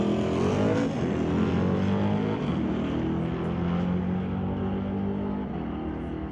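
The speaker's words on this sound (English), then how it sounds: "you get a really good listen to the car rolling through the gears" A Super Shifter class drag race car on a bye run roars loudly down the strip, its engine climbing through the gears with distinct shift breaks, a continuous close engine note with no talk.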